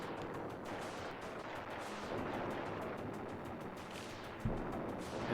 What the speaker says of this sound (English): Now they're just launching missiles.